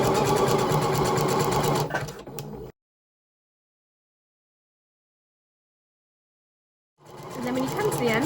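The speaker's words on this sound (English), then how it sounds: "just lay the elastic on top and then just sew with a zigzag stitch along that inside edge" A sewing machine runs a fast, steady zigzag stitch attaching elastic to swimwear fabric, loud and close, stops for about four seconds of silence, then starts stitching again.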